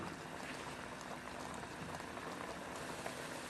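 Hot water poured over handi kebabs in a pot, a steady hissing, bubbling rush of liquid that runs continuously and close, with no voices over it.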